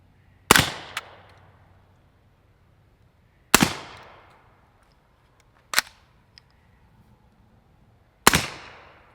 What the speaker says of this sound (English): We're gonna shoot 3 rounds through the RS9,